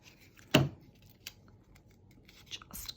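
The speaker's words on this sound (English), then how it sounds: "just cut from one corner to the other to get your desired length" Scissors snip through paper from corner to corner for a craft project, one sharp close cut standing out, followed by a few fainter snips and rustles in a quiet room.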